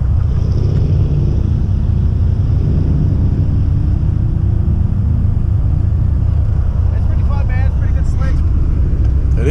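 A Mitsubishi all-wheel-drive DSM drifts in snow, its engine a loud, steady, close rumble that holds without break throughout.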